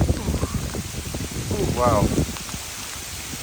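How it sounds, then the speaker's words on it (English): Hard wind with sleet lashing a hiking trail on the Appalachian Trail, a rough patter and gusty rush close by, with a voice exclaiming briefly over it. "now the wind's blowing like crazy and sleet"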